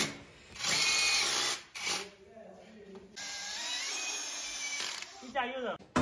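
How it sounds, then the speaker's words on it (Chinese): An impact drill bores into ceramic wall tile while a range-hood bracket is being refitted in a kitchen, whining loudly in two long bursts separated by a pause, with a short rattle near the end. "普通瓷砖先用三角钻头破瓷，然后冲击钻加深。"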